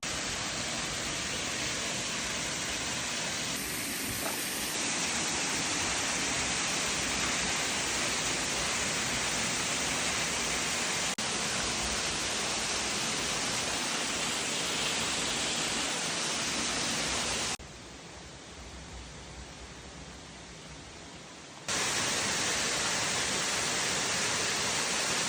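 Waterfall in Mureung Valley, Korea, a dense, loud, continuous roar of falling water that holds steady throughout, briefly dipping to a quieter wash near the end before returning; no talking.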